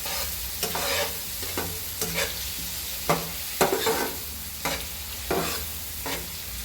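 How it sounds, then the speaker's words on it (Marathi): Tomato sautés in a pan under a soft, steady sizzle, broken by repeated scraping strokes of a spatula every second or so, close and unaccompanied by talk. "त्याच्यात आणि टाकणार आहोत टमॅटो आता हे थोडंसं परतून घ्यायचं"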